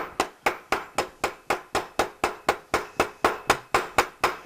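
Small hammer held close to the head tapping metal edges in scratchbuilding work, a steady series of about sixteen crisp, evenly spaced strikes, close and sharp, each with a short decaying ring.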